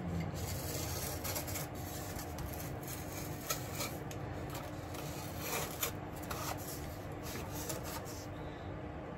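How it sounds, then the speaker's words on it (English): Cutting through glued trackbed down to the plywood layer beneath on an OO gauge model railway, a steady close rasping, rubbing scrape that runs continuously throughout with small clicks. "what I'm doing is cutting until I find the plywood layer underneath"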